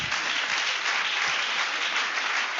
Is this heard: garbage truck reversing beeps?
no